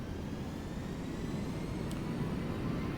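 Airbus A320 jet engines at takeoff power rolling down the runway in the Aerofly FS Global flight simulator, a steady loud broadband roar that holds constant throughout with no talk.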